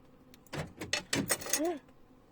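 A door is unlocked and opened: a quiet cluster of rattling, clicking metallic handling noises and a short creak, close by, with no speech.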